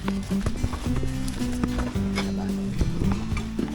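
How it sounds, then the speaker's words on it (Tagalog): A horse loaded with travellers' luggage on a route toward Tagaytay, its hooves clopping in an uneven rhythm close by, with a low droning hum and some background voices. "lahat ng gamit namin ay isasakay na namin sa kabayo"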